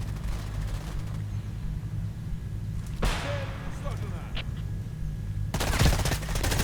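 Gunfire in the online shooter game Hired Ops, heard as a few sharp bursts over a steady low background hum, with talk from players alongside.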